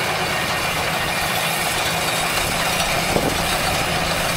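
A John Deere swather's engine runs steadily while cutting hay in a field, a constant loud mechanical drone with faint rattles and no pauses.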